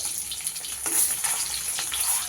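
An egg frying in a pan gives off a continuous close hiss and sizzle with small pops, heard briefly on its own.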